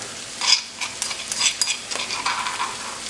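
Ginger garlic paste is stirred into spices in a pan for mutton stew, a soft sizzle under irregular scraping strokes of a spoon against the pan, close and moderately quiet.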